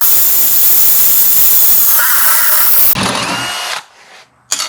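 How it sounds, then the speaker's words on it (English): Cordless power drill with a step bit boring holes in steel while fabricating a custom engine cradle for a Mercedes R107 450SL, a loud steady high whine that bites harder midway, then stops and spins down. "Going to use the stepper bit, see how well we do here."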